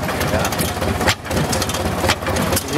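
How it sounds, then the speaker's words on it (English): An old engine fitted with drip oilers, including a top oiler feeding the connecting rod and crank, runs with a smooth steady chugging at close range, with a brief dip partway through. "Smooth engine, man."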